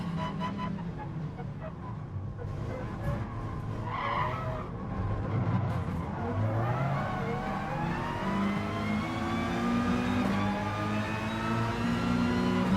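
Peugeot RCZ Group 4 race cars in a Gran Turismo race at Monza, engines revving and droning in a dense pack with rising and falling pitch, plus brief tyre squeals, loud and continuous throughout.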